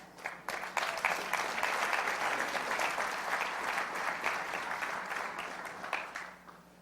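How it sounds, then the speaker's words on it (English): Audience applause during a talk on personal transformation and leadership, a full burst of many hands clapping that starts sharply, stays steady and fairly loud, and tapers at the end. "Clap."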